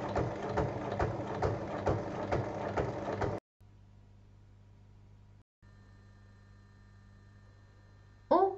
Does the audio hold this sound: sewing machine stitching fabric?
yes